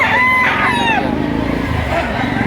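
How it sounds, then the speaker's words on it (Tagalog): Roosters crow loudly at close range in the busy Lipa livestock chicken market, overlapping calls rising and falling above a background of crowd noise. "Narito na lahat ng klase ng linyada ng mga manok"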